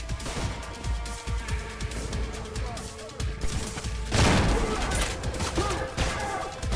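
Gunfire rattles in the shooter Trepang2 during an airplane assault, a dense stream of rapid shots and crashes, loud and close, with a heavier burst partway through and a voice talking over it.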